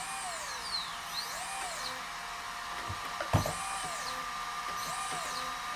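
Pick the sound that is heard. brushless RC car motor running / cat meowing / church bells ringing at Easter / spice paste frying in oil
brushless RC car motor running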